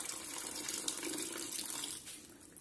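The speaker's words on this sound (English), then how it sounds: "Add in a bit of water for the gravy." Water poured into a simmering chicken curry with pumpkin seeds, a steady close splashing rush that runs continuously for a couple of seconds, then eases slightly near the end.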